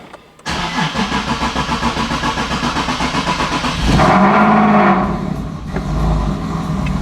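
A turbocharged Nissan 370Z Nismo cranks with rapid rhythmic starter pulses, catches and flares up loudly, then settles into a steady, close idle.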